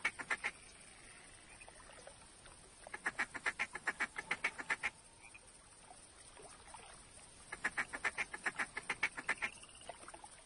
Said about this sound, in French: Il y a des canards qui passent là-bas au loin.